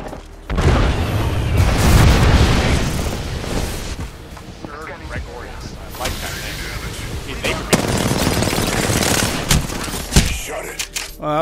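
Dense bursts of gunfire from a match of Apex Legends rattle loudly and almost continuously, mixing rapid automatic shots with heavy booms and impacts, while players' voices break in now and then.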